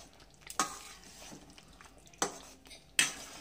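A pan of chicken and potato curry being stirred: three distinct close clinks of a utensil against the pan, spaced out, over a low, quiet background sizzle with no talk.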